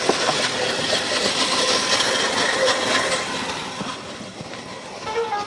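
A 1901 Curved Dash Oldsmobile engine running with the spark advanced, giving a loud, steady, close rumbling chug with rattling mechanical noise, and no talk over it.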